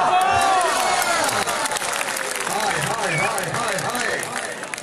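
A big outdoor crowd claps and cheers loudly at what sounds like a competitive event, making a dense, continuous roar. An announcer's amplified voice carries over the applause throughout.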